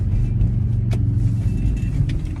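A car pulls into a parking spot: a loud, close engine rumble that holds steady, with a brief sharp clatter near the middle as the vehicle settles.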